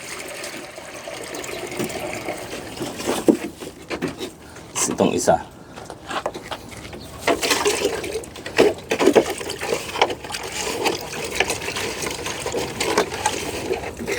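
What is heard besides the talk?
water being poured out for dogs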